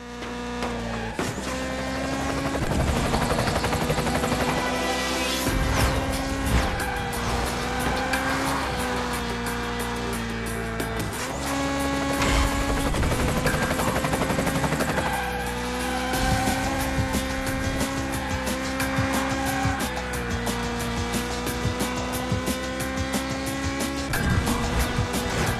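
Race cars drifting in the video game Split/Second: Velocity, with loud sustained engine whine and screeching tires, shifting pitch as cars slide around corners, dense and continuous alongside game music and effects.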